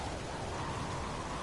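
Steady broadband hiss of rain falling in a space exploration video game, a dense even wash with no distinct drops, constant and moderately loud throughout with no voices.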